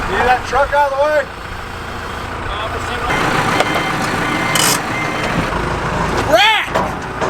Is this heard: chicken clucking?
no